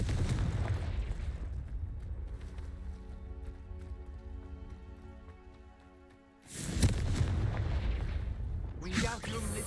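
A Confringo fire spell explodes in the video game Hogwarts Legacy, a loud booming blast at the start and another big burst near the end, with a quieter tonal stretch of game music between them.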